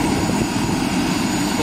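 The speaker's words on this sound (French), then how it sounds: "dès que l'hélicoptère arrive" A helicopter arriving at a firefighting or spraying fill site, heard as a steady, loud broadband rotor and engine roar with a low throbbing undertone, continuous throughout with no voices.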